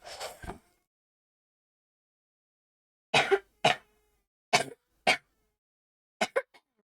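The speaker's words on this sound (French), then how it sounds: "je tousse un peu beaucoup trop fort." Several sharp coughs come in pairs with silent gaps between them, close and fairly loud, after a brief bit of voice at the start.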